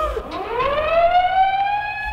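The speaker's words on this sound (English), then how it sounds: "The escape sirens wailed over the yard." A prison escape siren wails over a yard, one loud, close tone rising steadily in pitch and holding high, with no voices.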